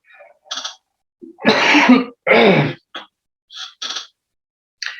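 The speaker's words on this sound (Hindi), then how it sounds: "खांसी आ रही थी" A person coughs and clears their throat in a few short bursts, two heavy coughs near the middle with softer throat sounds around them, up close during an online meeting.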